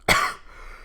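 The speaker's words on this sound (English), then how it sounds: "I'm sorry for my coughing." A single sharp cough from a person on a livestream, close and abrupt, with a brief fading tail and no talking.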